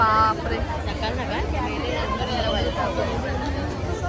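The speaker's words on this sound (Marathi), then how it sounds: "कोकण बाजार सकाळची एवढी गर्दी आहे" A busy morning crowd at Kokan Bazaar market, with a steady wash of chatter and babble from many people nearby, and someone speaking over the hubbub.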